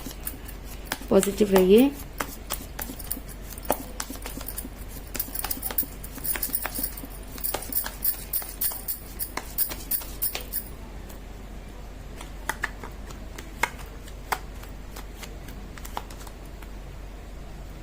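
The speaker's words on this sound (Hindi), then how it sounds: "कर लेती हूँ कार्ड की शफलिंग।" Tarot cards shuffled by hand during a Hindi reading, a run of soft rapid riffling clicks for about ten seconds, then sparser single card taps, with someone speaking briefly at the start.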